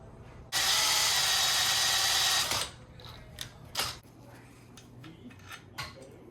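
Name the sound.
drilling a bracket mount for Razor MX125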